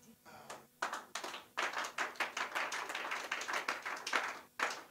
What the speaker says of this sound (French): quelqu'un l'acclame